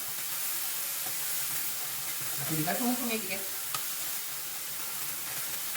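Beef sizzles steadily while being stir-fried in a frying pan, its juices cooking off, with a brief burst of stirring and spatula scraping midway; a faint voice is heard.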